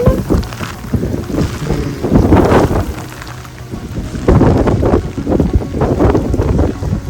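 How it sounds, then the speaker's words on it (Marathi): Strong wind gusts buffet the microphone on a monsoon road trip through the Western Ghats, roaring loudly in uneven surges throughout with no clear talking. "मस्त वार सुटला"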